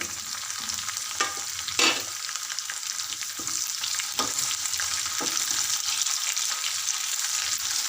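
Onions, curry leaves and dried red chillies fry in hot oil for a Telugu palak dal tempering, a steady dense sizzle with a few brief louder stirring crackles, close and continuous without speech.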